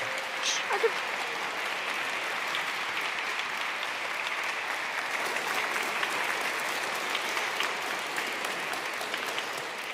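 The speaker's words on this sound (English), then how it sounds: "You can clap, you can cheer." A congregation in Chester Cathedral bursts into dense, steady applause during a Sunday Eucharist, the clapping sustained and even for the whole stretch, filling the large stone space.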